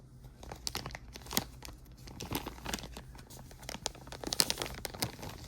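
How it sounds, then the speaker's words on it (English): A plastic bag holding a Hacipupu toy is opened, making close, quiet crinkling and tearing rustles in irregular bursts, with no talking. "It comes in this plastic bag."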